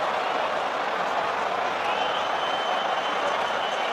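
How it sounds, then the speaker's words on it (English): Football crowd noise in a stadium during an Arsenal vs Tottenham Premier League match, a dense steady roar of fans cheering and clapping, continuous and broad, with commentary voices faintly underneath. "the minority are cheering that decision"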